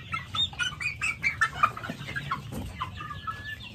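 Meat chickens of harvest size in a newly built backyard coop, clucking and squawking in repeated bursts close by, with a brief flutter of wings and a low background hum.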